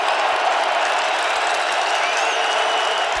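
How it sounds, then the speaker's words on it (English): Dense, roaring stadium crowd cheering steadily at an NFL Packers vs Vikings game in the 2021 season, a continuous wash of noise with no break, loud and enveloping throughout. "This crowd is ripping."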